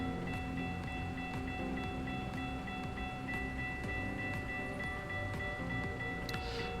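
A train rolls past a road crossing in American Truck Simulator, a continuous, even rumble with a steady bell-like ringing tone and faint rhythmic clicks throughout.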